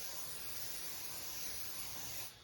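Cooking spray hisses from an aerosol can onto a heavy iron skillet in a home kitchen, a steady close burst lasting a couple of seconds before it cuts off.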